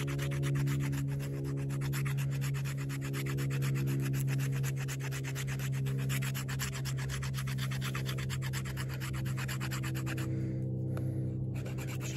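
Steady, close rasping scrape of a Rough Rider RR1869 knife spine drawn repeatedly across material, continuous and rhythmic over a low hum.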